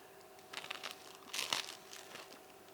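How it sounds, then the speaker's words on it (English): Faint, close crunching bites into crisp garlic bread, a few quick crackly bursts spaced apart with quiet between them. "Sounds crunchy. It's got a crunch."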